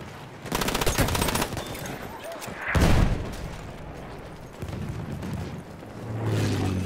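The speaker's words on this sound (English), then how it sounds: "Sniper shooting from behind" Battlefield 1 gunfire: sustained machine-gun bursts and heavy booming shots on a battlefield, loud and close, with a long rattling burst early, a big blast near the middle, and more firing toward the end.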